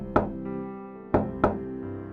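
Cartoon knocking on a door: one sharp knock, a pause, then two more quick knocks over a soft musical background.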